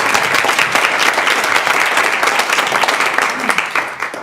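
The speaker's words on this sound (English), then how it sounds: "let's give our panelists a round of applause." Audience applause for student panelists at an admitted students' session, a dense burst of many hands clapping, loud and sustained for several seconds before starting to taper off at the end.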